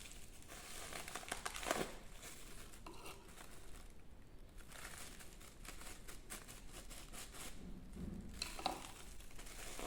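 A plastic bag used for a children's flower-painting craft is crumpled and handled nearby, giving faint, irregular crinkling bursts with short pauses and a louder rustle near the end.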